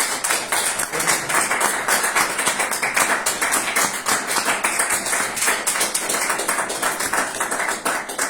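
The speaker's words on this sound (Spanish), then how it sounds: "Un fuerte aplauso a nuestro Señor Jesucristo." A church congregation applauding, a dense, continuous patter of many hands clapping together, loud and sustained throughout with no break.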